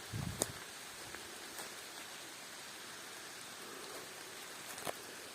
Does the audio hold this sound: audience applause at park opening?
no